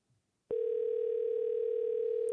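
A telephone dial tone starts abruptly after a brief silence and holds as a steady, clean, continuous hum while a call is being placed.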